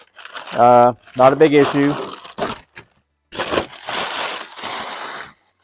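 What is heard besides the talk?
peeling masking tape off painted R/C car body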